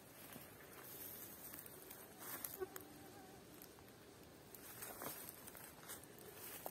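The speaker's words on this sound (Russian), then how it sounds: "Комары, просто комары зажрали" Mosquitoes swarm around someone picking fireweed flowers in a dense outdoor thicket, giving a faint, steady, high buzzing haze with soft rustles and no talking.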